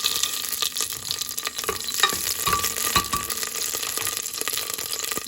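Cinnamon and bay leaf dropped into hot oil for brown rice, a steady close sizzle with crackling pops and occasional stirring scrapes throughout.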